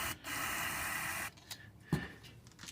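Carb cleaner hissing from an aerosol can into a GY6 scooter engine that will not spark, a steady close spray of about a second, followed by quieter clicks and handling noises.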